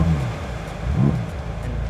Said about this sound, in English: we might as well just rev bomb it just a little bit